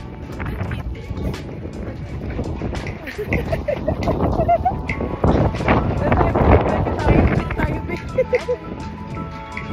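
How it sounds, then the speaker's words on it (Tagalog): Gusty wind buffets the microphone in steady rushes, with people talking over the roar throughout. "Ang lakas ng hangin."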